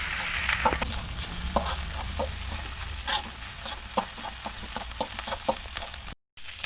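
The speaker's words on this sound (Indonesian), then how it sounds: "Okay, and then mix them all with the rice" Fried rice with soy sauce sizzles steadily in a hot pan while a utensil stirs and scrapes through it with frequent irregular clinks. The sound is close and continuous, with a brief dropout near the end.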